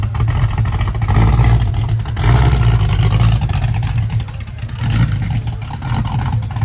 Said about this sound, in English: Got the Mustang Mark 1, I think this is just about to roll out. Oh, listen to the idle.